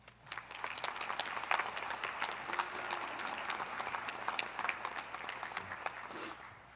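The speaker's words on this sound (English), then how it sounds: "Let's give everyone who made this possible a round of applause." Applause from the audience at a 2022 nursing commencement and pinning ceremony, a sustained wash of many clapping hands, moderately distant and even throughout, with faint crowd murmur beneath.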